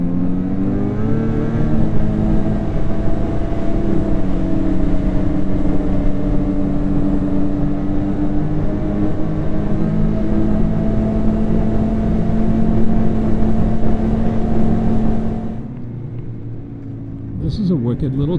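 A snowmobile engine runs at a steady high drone while riding a trail, loud and close with studs on the track, then drops away briefly near the end.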